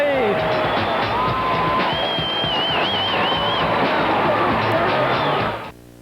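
Loud crowd at a 1997 Hazleton Area vs Coughlin high school basketball game cheering and roaring steadily, dense and close, with whistles and shouts rising over it before cutting off abruptly near the end.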